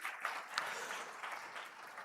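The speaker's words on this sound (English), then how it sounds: "A round of applause to the both of them" Faint applause from an audience, a soft continuous patter of many hands clapping at a distance.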